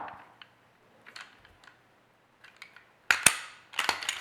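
A Glock 19 pistol handled up close, with faint small clicks followed by a loud, sharp metallic rack of the slide and a couple more quick clacks, no talking.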